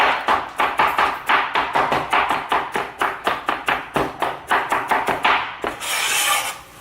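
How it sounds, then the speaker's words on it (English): A knife chops vegetables finely on a board in quick, regular strokes, roughly three or four per second, loud and close, ending in a brief scraping sweep with no talking. "So chop, chop, chop, chop, chop. Okay. Slice them up quite finely."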